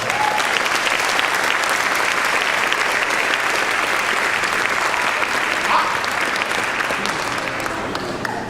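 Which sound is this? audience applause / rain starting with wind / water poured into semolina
audience applause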